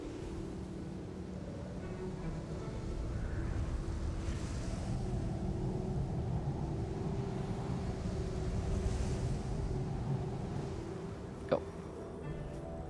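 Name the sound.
wind picking up in the video game Journey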